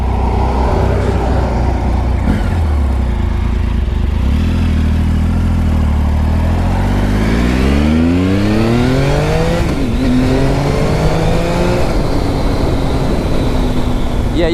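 A Triumph Sprint motorcycle revs up through the gears on a test drive, its engine note climbing in pitch, briefly dropping at each shift and then rising again, loud and close, with wind roar running steadily underneath.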